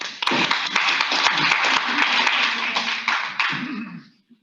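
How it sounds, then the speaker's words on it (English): An audience at a speaking event gives a round of applause, a dense burst of many hands clapping near and loud for about four seconds before quickly dying away. "So give Fred a round of applause."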